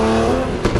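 A Supra sports car revs at a night car meet, a brief loud engine blare with a steady pitch that dips and then surges again at the end.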